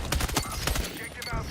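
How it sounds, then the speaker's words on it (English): Rapid gunfire and blasts in the Battlefield 6 video game, a dense burst of sharp cracking shots in quick succession. "Lots going on, loads of explosions, lots of smoke"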